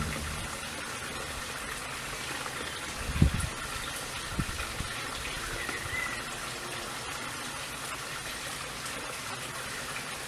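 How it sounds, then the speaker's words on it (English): Garden hose running fresh, unchlorinated water into a wooden goldfish pond, a steady close hiss of gushing water with a few brief splashes and knocks. "So now that is putting water back in, clean, fresh water with no chlorine or anything"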